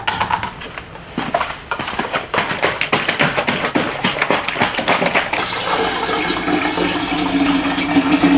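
Water glugs out of a gallon jug onto potted plants, close and loud, with rhythmic gurgling pulses as air enters the jug, then settling into a steadier pour and splashing.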